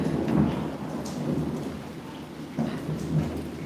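Rumbling thunder rolls over steady heavy rain during a rainy-day storm, with a louder crack near the start and another swell toward the end, loud and close, no voices.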